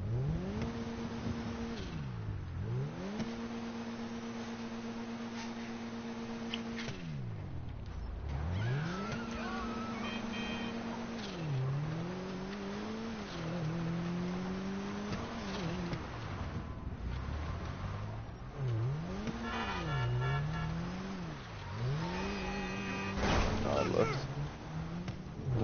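A car drifting across a bridge in GTA, its engine revving up and dropping repeatedly through gear changes with tire squeal and skidding, continuous and fairly loud under occasional talk.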